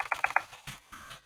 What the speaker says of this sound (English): this keyboard. It's got a sticky E key.